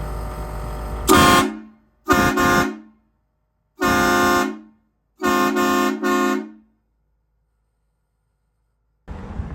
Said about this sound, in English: So this is gonna be a test on the train horn.